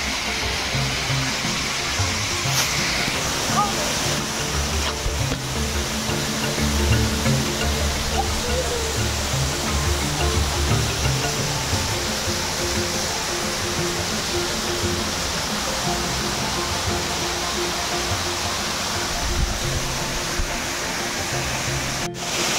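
Angel Waterfalls in Balutakay, Bansalan, Davao del Sur roars as a constant, dense wash of falling water, loud and close, steady throughout with no break.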